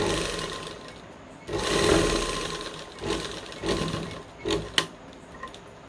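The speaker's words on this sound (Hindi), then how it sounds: "अब इसको हम जो हमारा ऊपर हिस्सा था इसको हम सिलाई करके बंद कर देंगे" A sewing machine stitches Afghani salwar fabric, closing the top section, in several separate runs of whirring stitching with brief pauses between them, close by and with no talking.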